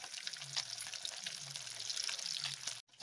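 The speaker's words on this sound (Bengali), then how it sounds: "অল্প তেল দিলে অল্প মাছ দেওয়া হলো, হালকা দিয়ে আস্তে আস্তে ভেজা দিয়ে নিতে হবে।" Pieces of snakehead fish fry gently in a small amount of hot oil in a pan, a steady close sizzle with soft crackling and faint bubbling, cutting off briefly near the end.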